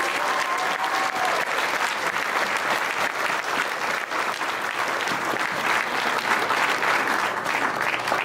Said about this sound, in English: let's give these kids one more round of applause